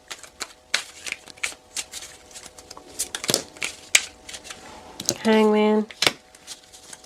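Tarot cards riffled and snapped in quick bursts, close by, with a brief whirring flutter near the end and soft talking between the shuffles.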